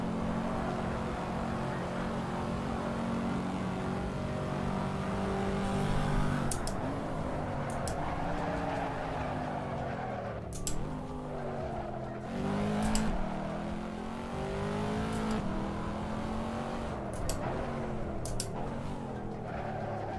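Racing car engines roar in the driving game Assetto Corsa, a sustained loud drone that rises through each gear and drops sharply at shifts, with repeated upshifts and pitch sweeps across the run and no voices.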